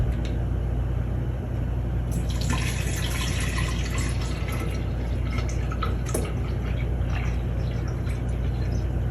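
Water pours into a jar for several seconds, a steady splashing trickle with drips over a constant loud background hum, no voices.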